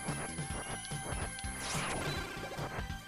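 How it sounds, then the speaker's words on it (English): Noise Crush weapon from Mega Man 7 firing repeatedly, a run of loud crashing, smashing video-game hits over a busy chiptune game soundtrack, with a brighter burst midway. "I can demonstrate the Noise Crush. That, has a interesting effect that I missed."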